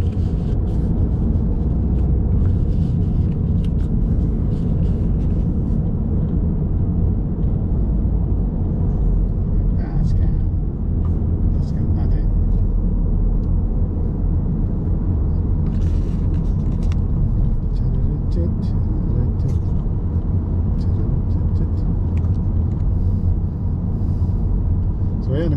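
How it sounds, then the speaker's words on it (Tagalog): Steady, loud rumble of highway traffic on Highway 410 in Brampton, Ontario, with continuous road noise from passing cars and heavier vehicles, no talk over it. "tayo ay titignan natin yung traffic sa highway."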